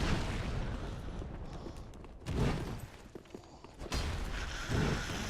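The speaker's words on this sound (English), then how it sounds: "See if I can fire another firebomb." Firebomb explosions in the video game Dark Souls 3, several heavy bursts with crackling fiery tails, separated by quieter stretches of game ambience.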